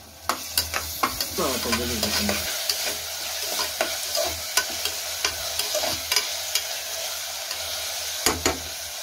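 Ginger garlic paste sautéing with mutton in a pan for Chettinad mutton keema, with a loud continuous sizzle and sharp rhythmic stirring scrapes and taps repeating every half second or so.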